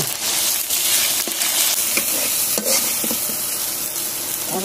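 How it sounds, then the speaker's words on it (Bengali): Meat fries with ginger in a pan in a village kitchen on a rainy day, a close, continuous sizzle with scraping clinks of a spatula stirring it repeatedly. "এখন ভাজা করে কষাবো, কষা একেবারে গায়ে গায়ে ধরো বলছি"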